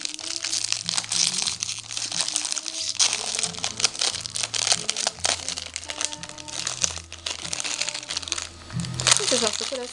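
Close, continuous crinkling and crackling as a small gold-foil chocolate packet is torn open and unwrapped, with faint voices in the background.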